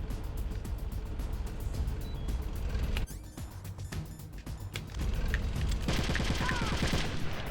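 Sustained gunfire from enemy gunners in the game Twin Snakes, rapid rattling bursts over a busy rumbling background, with a short lull midway before the shooting picks up again at full intensity.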